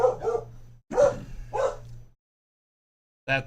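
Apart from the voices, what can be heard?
dog barking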